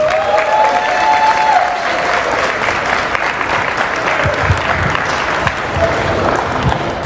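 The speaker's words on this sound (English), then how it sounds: "let's give one of the true pillars of Hancock County a well-deserved round of applause" Sustained audience applause fills a school hall during an elementary school Black History Program, loud and steady for about seven seconds, with a few scattered voices and cheers mixed in.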